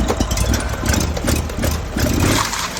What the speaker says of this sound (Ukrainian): Послухайте, як він шепче, це справжня Honda. Ось так тихенько працює